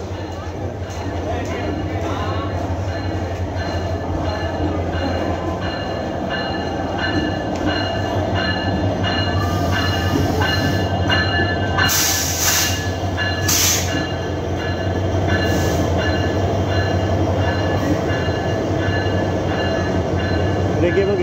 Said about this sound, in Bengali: ট্রেন এসে বসছে